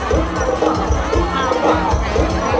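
A cheering squad at a Loy Krathong beauty pageant, a dense, steady crowd murmur and shouting that fills the whole short stretch at close range, with scattered voices in the mix.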